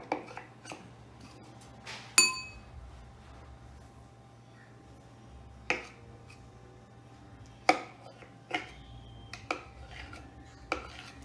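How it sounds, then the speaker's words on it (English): A spoon scooping moon dough into a bowl, with sparse, sharp clinks and taps of the utensil against the bowl spread over a quiet background, close and distinct. "Use the spoon to try and scoop it all out and put it in the bowl"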